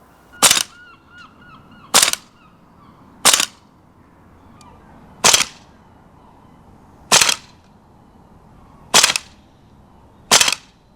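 VFC AK74M gas blowback airsoft rifle firing BBs outdoors in cold weather, seven sharp, loud single shots spaced about one to two seconds apart, with quiet background between them.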